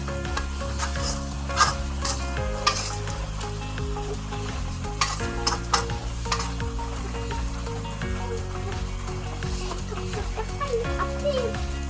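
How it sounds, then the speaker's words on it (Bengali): Raw mango morabba being stirred in a pan, with steady sizzling and scraping strokes throughout under background music. "তো নাড়াচাড়া করে তারপরে মোরব্বাটা কষিয়ে নিতে হবে।"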